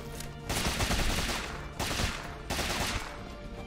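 Rapid bursts of weapon fire in the video game Rogue Legacy 2, two dense, loud volleys of crackling shots with a short break between them.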